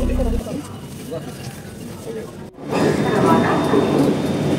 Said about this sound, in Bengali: ফাইনালি কিন্তু ট্রেন ছেড়ে দিয়েছে